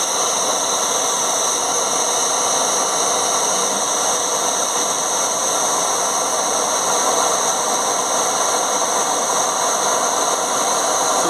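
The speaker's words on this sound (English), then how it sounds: "light up my blowtorch just by switching it on and igniting it" A blowtorch burns with a steady, loud roaring hiss, heating the seized thread of a blocked DPF vaporizer. The broadband rush holds even and unbroken from start to finish, with no voices over it.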